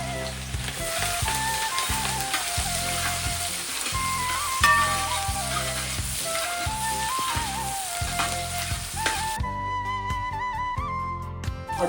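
Green chilies sizzle and crackle in hot oil alongside dried red chilies in a pan, a steady, dense frying hiss throughout with music playing underneath.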